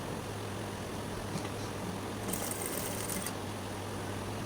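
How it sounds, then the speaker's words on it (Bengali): Sewing machine running a short burst of stitches on fabric while making bell sleeves with dori loops, a steady low motor hum under a brief faint whirring rise, no talking. "দেখুন এখন এরকমভাবে দৌড়ে সেলাই করে নিব"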